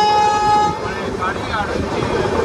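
A long-distance train bound toward the Himalayas runs through a small station, a sustained horn-like tone fading into loud steady rumbling and rattling heard from on board.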